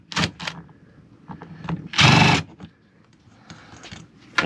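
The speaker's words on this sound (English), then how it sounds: "you like to use the impact wrench and hopefully it won't unthread it" An impact wrench on a Nissan Xterra fan clutch and pulley bracket job gives one loud, dense burst of about half a second while removing a bolt, with short clicks and clatter of tool handling before and after.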